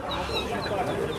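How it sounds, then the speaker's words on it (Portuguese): Roosters and hens cluck amid the dense, continuous din of a crowded poultry fair in Caruaru, Pernambuco, with market chatter mixed in. "Tem outro galo por aqui,"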